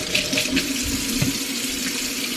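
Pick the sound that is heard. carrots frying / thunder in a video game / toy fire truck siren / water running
water running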